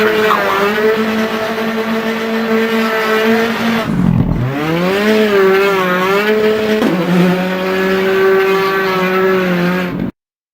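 Rally car engine in Richard Burns Rally, close and loud, revving high through a power slide, dipping sharply as the driver lifts mid-corner, then climbing again and holding high until cutting off abruptly.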